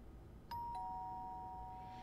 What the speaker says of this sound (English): She rings Lua's doorbell.